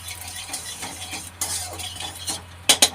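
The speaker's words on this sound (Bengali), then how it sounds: "এবার এই বেগুনের মধ্যে, এই তেলের মধ্যে দিয়ে দেব কালো জিরে" Nigella seeds go into hot oil with eggplant, giving a soft sizzle and light stirring scrapes up close, ending in a few sharp utensil clinks against the pan.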